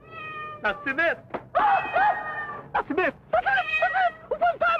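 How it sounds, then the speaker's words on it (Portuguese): A cat meows repeatedly inside Maracanã stadium in the 1986 Os Trapalhões film, its rising and falling cries alternating with people calling out nearby. "Não tá vendo que é um gato?"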